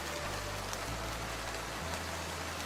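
Steady rain pours down outdoors, a dense, even hiss of drops with a low rumble underneath, continuous and fairly close with no voices.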